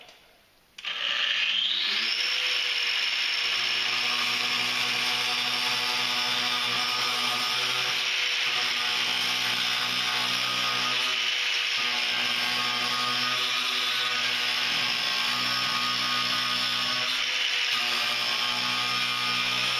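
A power tool cuts through a car's steel fender and inner fender, spinning up after a brief quiet start into a loud, sustained, high-pitched whine that holds steady for a long stretch with slight wavers.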